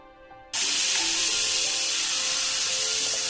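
Two chopped tomatoes drop into a hot pan of onions. After a brief quiet moment, a sudden loud sizzle erupts and holds as a steady, bright hiss.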